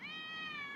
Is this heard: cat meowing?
yes